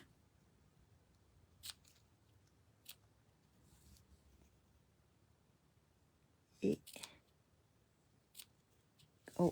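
Scissors snip ribbon several times at irregular intervals, crisp and close, with a couple of louder cuts near the end amid a quiet room.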